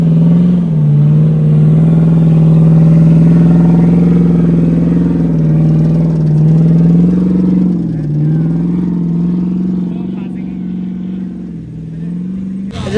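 A jeep stuck during a village jeep rally revs its engine hard in a loud, sustained drone that dips and surges as it strains, with crowd noise and talk faintly underneath.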